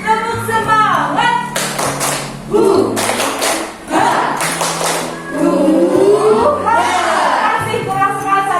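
Grade six schoolchildren in a classroom perform a rhythmic spirit clap in patterned bursts of claps and taps, with their voices chanting along loudly between and over the beats.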